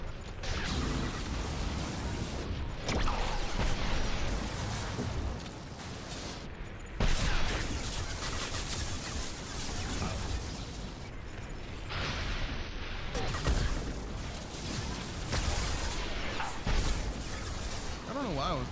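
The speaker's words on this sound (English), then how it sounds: "Watch out, flashbang!" Combat in Mass Effect 2 with a flashbang and bursts of gunfire, dense loud rattling shots and bangs in repeated volleys with brief lulls, under a voice talking throughout.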